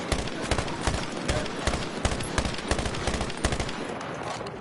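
Dense automatic gunfire in the Battlefield video game, with rapid, continuous bursts of shots that stay loud and close throughout the clip.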